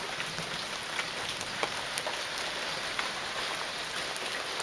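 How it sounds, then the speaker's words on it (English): Heavy rain falls during a brewing thunderstorm on Salt Spring Island, Canada, a steady close wash of drops with scattered louder individual splats, no voices. "Big raindrops coming down now."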